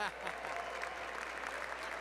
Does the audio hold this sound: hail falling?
no